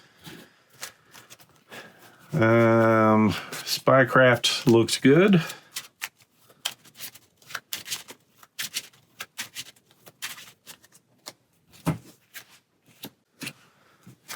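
Cards from a Marvel Champions card game deck being shuffled and handled at a tabletop, giving close, intermittent bursts of papery riffling and flicking clicks, with someone talking between them.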